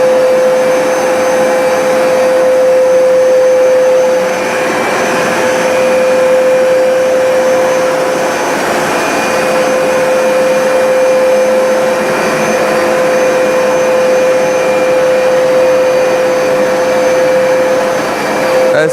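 A Hoover SmartWash carpet cleaner runs in wash mode with a loud, steady motor drone and a constant high whine, holding nearly unchanged throughout with only slight dips in level and no talking.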